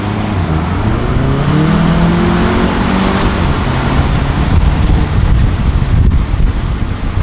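Volkswagen Mk7 GTI with its resonator deleted accelerates onto a highway, a steady loud engine drone with rising tones heard from inside the cabin, mixed with constant road and wind rush throughout.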